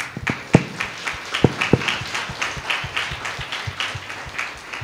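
A church congregation at a field training programme in Palakonda claps in scattered bursts. Sharp individual claps repeat unevenly at moderate loudness in a fairly small gathering.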